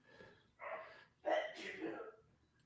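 A single sneeze lands in the middle of a quiet indoor stretch, a sharp burst after a short breathy intake, with soft sounds around it.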